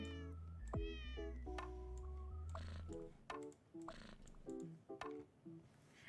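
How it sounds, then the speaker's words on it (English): Several synthetic cat meows from a video game in quick succession, bright and close, with a low hum at first and a few soft clicks between them. "I love all the meow sounds though."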